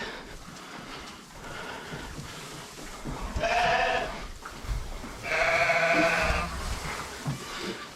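A quarter pygmy goat on a ranch bleats twice, loud and close, with the second bleat longer and wavering, over low outdoor background noise.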